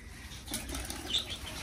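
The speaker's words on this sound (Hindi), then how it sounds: "कबूतर सारे बाहर आ गए" Pigeons let out of their enclosure make a brief, soft flurry of flapping wings close by, peaking for under a second amid quiet background with no talking.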